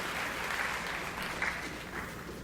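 Audience clapping at a scientific lecture on magnetite nanoparticles, greeting a doctor as he takes the floor; steady, moderately distant applause filling the whole moment, with no talk over it.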